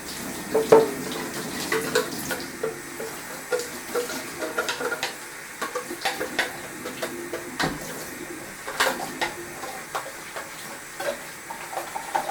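Hot water pours into a metal beer kit can, a continuous splashing trickle close by, punctuated by irregular metallic taps and knocks as the stream strikes the can.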